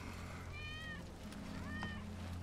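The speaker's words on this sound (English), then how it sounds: "That's Wedge's cat." A cat meows twice in the video game Final Fantasy 7 Remake, two short, clear, rising-and-falling cries over a low background hum.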